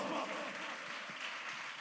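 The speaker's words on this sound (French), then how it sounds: "applaudissements" Applause from a congregation during a Sunday church worship service, a steady close wash of clapping hands lasting throughout with a faint voice underneath.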